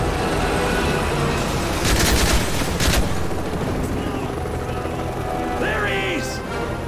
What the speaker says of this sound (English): Watch out for that chopper!